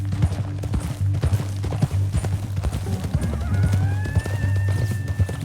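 In Red Dead Redemption 2, a horse gallops with quick, rhythmic clip-clop hoofbeats close by, and a whinnying neigh rises near the end.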